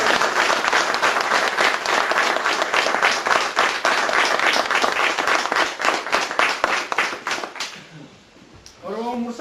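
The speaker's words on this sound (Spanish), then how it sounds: "hay que dar un aplauso a todos los expositores y por el local" A crowd applauding the speakers at a workers' workshop, with dense, sustained clapping that thins out near the end before a voice begins to speak.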